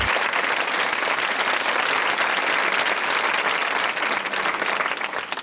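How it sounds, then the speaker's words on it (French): Studio audience applause on a French TV quiz show (Qui veut gagner des millions), a dense, steady wash of clapping filling the room at full volume for several seconds, easing slightly near the end. "Et on vous applaudit."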